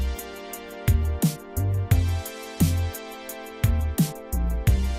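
Mixed but unmastered electronic music track from FL Studio, with punchy deep bass notes and sharp drum hits in a steady repeating beat over sustained synth tones, loud and upfront with no talking.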